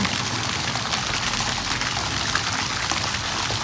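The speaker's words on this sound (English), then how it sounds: "Isn't that putting dirty water into the pool?" Water pours steadily into a backyard swimming pool, a continuous splashing hiss with no pauses.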